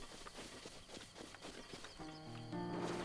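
Horses in the Zelda Breath of the Wild video game, with soft hoof clops and footsteps over a busy game soundscape, then sustained musical tones entering near the end.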